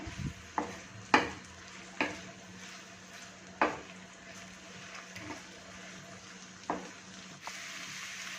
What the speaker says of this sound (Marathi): आता आपला कांदा जो आहे तो छान असा परतून घ्यायचा आहे